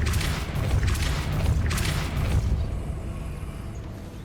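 A Depulso repelling spell cast in Hogwarts Legacy, a loud booming blast with rumbling low-end bursts that roll on for a few seconds before easing into a quieter tail.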